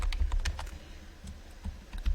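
Fingers tap out a burst of typing on a computer keyboard, close and crisp, with quick irregular clusters of keystrokes separated by short pauses and no voices.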